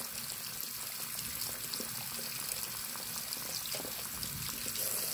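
Tap water runs steadily from a faucet at a newly installed Rheem gas water heater, a soft continuous hiss and trickle at moderate distance, alone without talk.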